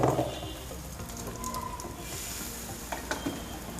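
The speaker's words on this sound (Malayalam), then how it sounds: "നമുക്ക് സിം ഒന്ന് കുറച്ച് വെച്ചതിന് ശേഷം ഈ അടിച്ച് വെച്ചിരിക്കുന്ന കൂട്ട് ഇതിലേക്ക് ഒഴിച്ചു കൊടുക്കാം" Beaten egg mixture poured into hot ghee in a pan for a bread snack, giving a steady soft sizzle and frying hiss with light stirring and scraping, close and moderately quiet, with a couple of small clinks near the end.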